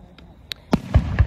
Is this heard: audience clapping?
no